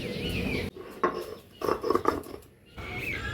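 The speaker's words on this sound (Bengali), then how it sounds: "তার জন্য আমি শিলেই বেটে নিচ্ছি" Mustard seeds ground by hand on a stone slab (shil), heard as rough scraping and grinding strokes in irregular bursts, close and fairly loud, with gaps of quiet between strokes.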